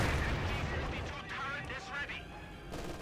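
Mortar shelling in the Company of Heroes 2 strategy game, a dense roar of booming artillery impacts and crackling gunfire filling the mix, with speech over it.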